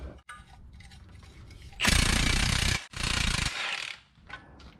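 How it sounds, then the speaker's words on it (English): Loosening a nut on the radius arm of a 1987-96 Ford F-150 pickup's suspension during a lowering job, heard as two loud, close bursts of rapid ratcheting or impact-tool rattle separated by a brief gap, with quieter shop noise around them. "Go ahead and just untight this nut off here."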